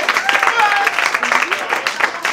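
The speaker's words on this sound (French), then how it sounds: "j'aimerais entendre vos applaudissements" Studio audience applauding on a French cooking television show, a dense, steady wash of clapping from a crowd that fills the whole short stretch at fairly even loudness.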